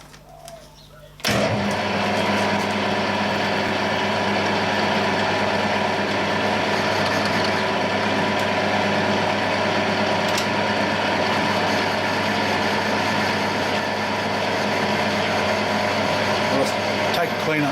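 A milling machine cuts work-hardened metal, starting abruptly with a loud, steady, harsh machine roar and persistent ringing chatter that holds without a break, close and dominant.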